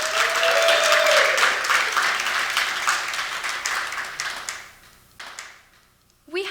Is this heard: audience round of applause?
yes